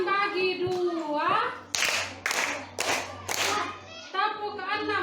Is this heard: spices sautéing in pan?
no